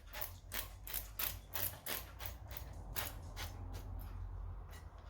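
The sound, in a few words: oil lightly sprayed onto a Pyrex baking dish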